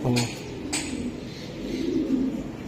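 Pigeons at a racing-pigeon sale coo in low, throaty bursts while scuffling, with a couple of brief wingbeat flutters near the start; the sound is close and steady across the short span.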